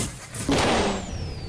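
A badly running car engine plays as a radio ad effect: a rough, sputtering rumble surges loudly after a brief start, then fades unevenly over about a second.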